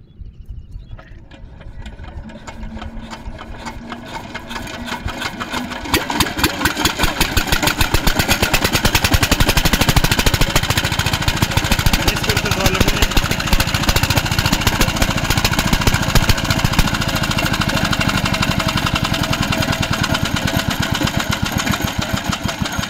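A hopper machine cranks up from a quiet start, then settles into a loud, steady mechanical clatter with a rapid rhythmic chugging that runs on without pause.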